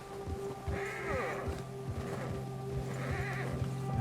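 Horse in Red Dead Redemption 2, out on a snowy trail, gives two short whinnies over steady in-game ambience, with a soft rhythmic thump of hooves underneath.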